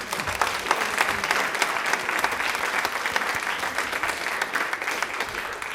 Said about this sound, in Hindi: इनके लिए तालियां जोरों से होनी चाहिए प्लीज।